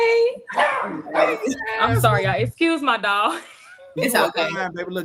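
A dog barks and yips several times at close range during a talk-show recording, mixed in with a voice soothing it.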